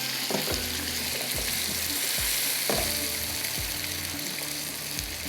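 Kebabs fry in hot oil with a dense, steady, loud sizzle, and low thumps and knocks from the utensil recur now and then underneath it.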